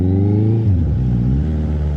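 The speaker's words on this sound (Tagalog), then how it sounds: "Ang ingay ng ating motor guys, no." Motorcycle engine with a stuck exhaust pipe, revving loudly and close, its steady drone dipping and rising again in one continuous run.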